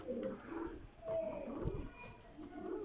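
Low, throaty cooing from pigeons nearby repeats in soft rolling phrases against a quiet background, with a few faint chirps.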